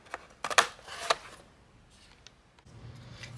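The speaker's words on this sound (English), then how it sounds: "I'm just going to cut my cardboard." Cardboard is cut with a few quick, crisp snips close by, followed by quieter handling sounds.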